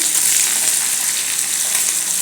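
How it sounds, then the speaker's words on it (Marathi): Onion and curry leaves fry with cumin in hot oil while being stirred, a loud, steady, dense sizzle that continues evenly and close by without pause. "जिरं घालायचं याच्यात घालूया कांदा आणि थोडा कढीपत्ता हे थोडं हलवून घ्यायचं"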